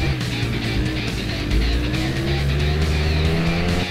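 A motorcycle engine revs hard at full throttle in the racing video game RIDE, a steady, loud whine that climbs in pitch as it accelerates.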